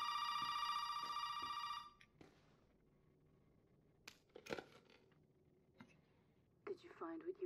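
In the Resident Evil 7 demo, a telephone rings with a bright electronic trill for about two seconds and then stops, followed by quiet clicks and handling noises and some soft sounds toward the end.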